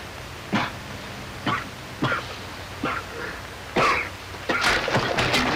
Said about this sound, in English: Very bad cough, my friend.